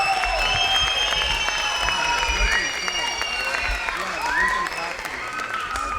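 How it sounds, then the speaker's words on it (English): Ceremony audience applauding musicians at a school culmination event: dense sustained clapping from a crowd, loud and continuous, with scattered cheers and voices mixed in, fading slightly toward the end. "Can we give a round of applause to Scott and Sultan for that beautiful music here?"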